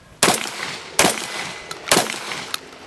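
Shotgun fired during a shooting demonstration, three loud sharp blasts about a second apart, each with a short ringing tail, plus fainter clicks of handling between them.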